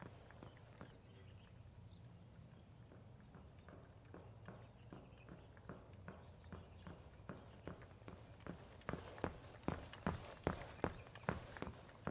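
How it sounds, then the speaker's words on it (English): Crouch-walking footsteps in Rainbow Six Siege, a steady run of soft, evenly spaced steps that grow louder and sharper toward the end over a low background rumble. "They increase the volume of footsteps while crouch walking."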